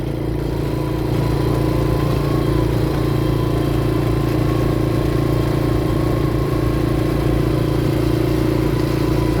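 A vehicle engine runs steadily at a low, rumbling idle-like pace with faint clatter, continuous and close throughout, while driving on a muddy rural road.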